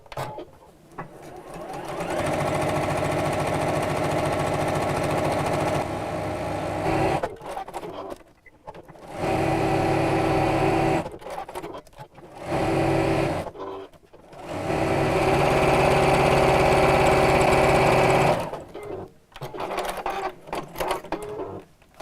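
A sewing machine set to a 2.8 stitch length sews along appliqué lines on a drawstring pouch, running in several sustained bursts separated by short pauses, loud and close with no talking.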